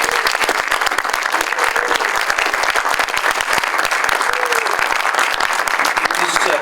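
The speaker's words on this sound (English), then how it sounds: "The Mornington Island, let's give them a clap." An awards-ceremony audience applauds a restorative justice project winner, a dense, steady roar of many hands clapping that fills the hall throughout at full volume.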